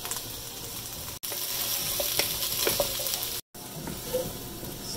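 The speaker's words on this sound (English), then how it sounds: "Let's add the red onion to the coconut oil. And the chickpeas." Red onion and chickpeas frying in coconut oil in a pan, a steady close sizzle with scattered crackles and pops running throughout, cut by two brief drops to silence.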